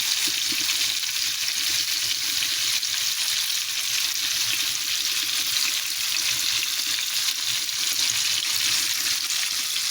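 Fish slices browning in a little oil in a pot give a steady, close hiss and sizzle of frying that holds evenly throughout with no voices.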